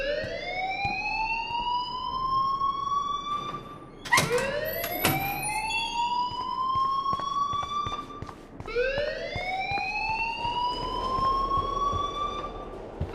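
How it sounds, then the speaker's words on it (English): A school alarm in the video game Life is Strange wails in repeated rising electronic sweeps, three long cycles with a sharp clatter between, loud and continuous with no talking. "please turn off that alarm since that's your job"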